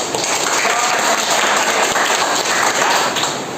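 Children in a classroom clap together in a brief, dense burst of applause that stays sustained and fairly loud for a few seconds.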